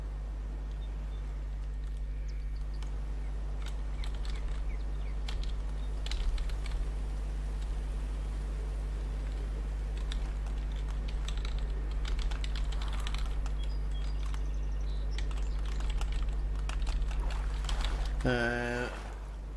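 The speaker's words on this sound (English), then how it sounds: "Sorry for typing now," Computer keyboard typing runs as a steady patter of quick clicks under game background sound while playing the fishing game Fishing Planet, with a brief louder burst near the end.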